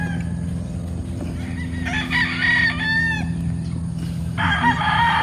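A gamefowl rooster with a straight comb clucks and calls during feeding time on a farm in the Philippines, with several bright, close calls rising over steady background farm noise.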